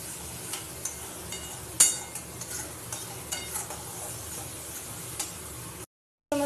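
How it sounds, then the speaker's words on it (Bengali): Phuluri fritters being sautéed and stirred in a pan, with a steady sizzle under repeated light taps and scrapes of a spoon, one louder knock, then a brief cut to silence. "দিয়ে আবারও ভালো করে আমি কষিয়ে নিচ্ছি"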